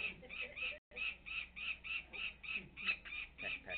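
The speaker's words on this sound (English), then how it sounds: "I'm going to try to slip that on without that bird going after me." A chicken being handled during leg banding clucks and squawks in a rapid repeated series of short calls, close and fairly loud, with one brief gap near the start.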